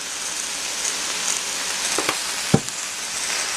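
Cabbage and rice noodles fry in a pan for Filipino pancit bihon, giving a steady soft sizzle with a few sharp clicks and taps near the end, no voices.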